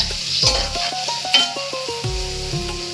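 Small eggs (egg fry) sizzle steadily in a hot pan while being stirred, with scraping and clinking of the utensil against the pan throughout; no one speaks.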